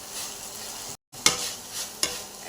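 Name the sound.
chicken sandwich frying in a pan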